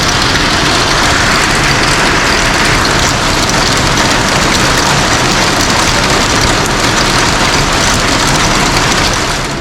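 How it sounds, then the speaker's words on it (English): Heavy rain in Chennai pours down in a loud, dense, continuous roar that stays steady throughout. "it's heavily raining"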